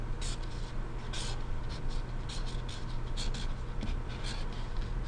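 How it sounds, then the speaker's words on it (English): A black Sharpie marker scratches across paper in short, repeated strokes, a close, steady squeaky rasp over a constant low background hum. "I'm going to write with a black Sharpie"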